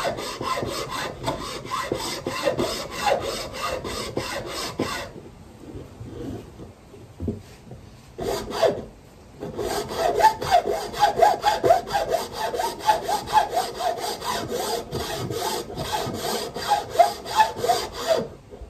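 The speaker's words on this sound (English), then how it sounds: "cut this kind of janky end off here so it's flat, and then maybe run up through some different grits of sandpaper" A horn end is cut off with a hand saw and then rubbed smooth with sandpaper: steady rhythmic rasping strokes for about five seconds, a brief quiet pause, then long runs of repeated scraping strokes, close and fairly loud, with no talking.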